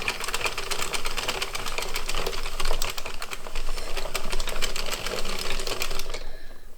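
An Addi Express Professional knitting machine is cranked by hand, giving a fast, steady clatter of rapid mechanical clicks and creaks that runs for about six seconds and then stops abruptly.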